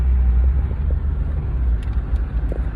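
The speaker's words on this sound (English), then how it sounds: "I gotta drive and record at the same time" A car on the road gives a steady, close, low rumble inside the cabin, with no talking.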